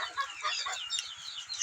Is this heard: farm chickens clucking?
yes